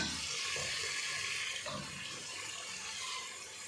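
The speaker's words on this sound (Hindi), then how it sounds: "अब हम इसमें तकरीबन 3 गिलास पानी डालेंगे" Water poured steadily from a glass into a pot of Punjabi potato chicken curry, a continuous close splashing and trickling with no talk.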